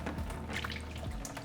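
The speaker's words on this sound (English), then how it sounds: "I'm gonna rinse it with Kangen water" Kangen water splashes and trickles over raw salmon being rinsed at a kitchen sink, a soft continuous watery patter close by with small drips, with no voices.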